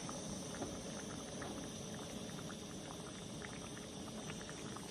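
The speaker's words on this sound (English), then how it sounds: "let this simmer with the lid on it" A small cast iron pot simmering with its lid on gives a constant, faint bubbling hiss with soft irregular pops, steady and unbroken from start to finish with no voices.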